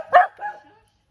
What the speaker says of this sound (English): dogs, be quiet. Sorry for the dogs